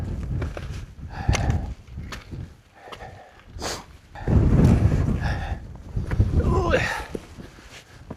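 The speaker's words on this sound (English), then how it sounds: "Tad bit windy" Gusty wind buffets the microphone on an exposed wild camping route, rising and falling in rough surges with heavier blasts midway and toward the end, close and loud, with faint scuffs of movement.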